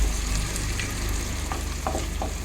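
Onion with seven or eight garlic cloves fries in hot oil for a kaju masala curry, giving a steady close crackling sizzle with occasional stirring clicks and no voices.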